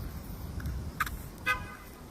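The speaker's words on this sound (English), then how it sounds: "I have no idea why that person just honked." A car horn gives two short honks about half a second apart, faint and distant over a low roadway hum, with no voices.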